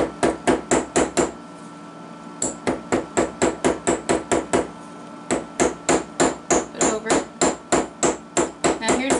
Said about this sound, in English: and again with the riveting hammer